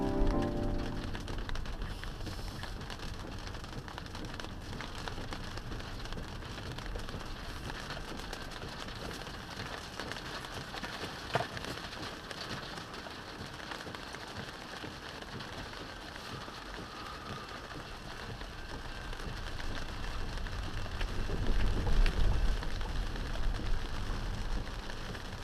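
Steady rain falls on streets in a narrow-lane town, a dense continuous hiss with scattered drips, swelling slightly louder toward the end.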